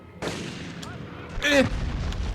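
Grenades going off in the video game Medal of Honor: a couple of sharp bursts, the last one louder, in a short stretch of game audio with faint voices.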